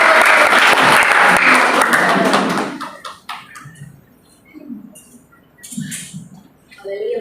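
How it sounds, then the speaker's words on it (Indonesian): A church congregation at a Christmas service applauds for a child who has recited scripture, a burst of dense clapping lasting a few seconds before breaking off into scattered claps, rustling and quiet voices. "boleh sekali lagi berikan tepuk tangan bagi Matius Junior"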